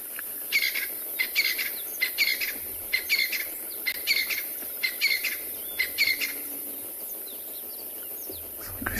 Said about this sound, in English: There is some francolins that are just calling off to the left-hand side